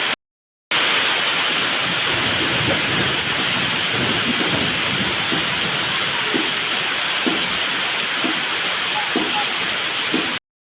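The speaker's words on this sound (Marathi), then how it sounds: "पाऊस बघा खूप असा पाऊस चालू झाला" Steady heavy rain pours down in Jammu throughout, with occasional low rumbles of thunder beneath the constant hiss.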